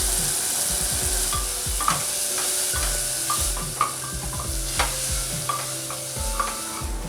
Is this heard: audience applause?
no